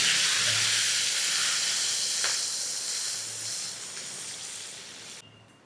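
Prawns frying in warm peanut oil, a steady bright sizzling hiss that slowly fades over a few seconds, close and alone.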